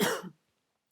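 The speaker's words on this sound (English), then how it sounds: "I felt like I want to cough again." A single short cough, fairly close and moderately loud, followed by silence.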